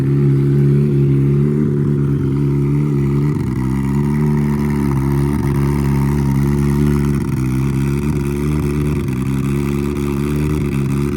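A turbocharged Suzuki Hayabusa motorcycle engine runs on normal fuel with a loud, steady, close rumble, dipping briefly a few times as the revs waver, with no talking.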